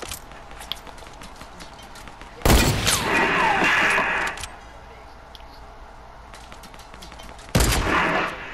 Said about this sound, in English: they shooting at us from the side too